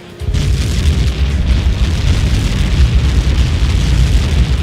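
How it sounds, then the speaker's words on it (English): A huge explosion from a Helios projectile impact in the Ace Combat 7 video game hits with a sudden loud boom, then rolls on as a heavy, sustained roar that stays strong through to the end. "How many got caught in that explosion?"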